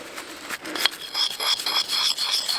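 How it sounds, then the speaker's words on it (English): A knife blade is drawn across a sharpening stone outdoors, producing close, continuous rasping strokes in a quick back-and-forth rhythm. "There's something really peaceful about sharpening your blades."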